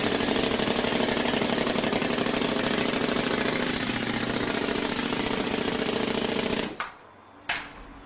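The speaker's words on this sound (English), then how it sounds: "The jolt squeeze machine pneumatically squeezes down on the squeeze board and up on the bottom board to further compact the sand." A pneumatic jolt squeeze machine compacts foundry mold sand in the cope half of a mold with a loud, continuous rapid hammering, then cuts off with a short hiss and a brief final burst.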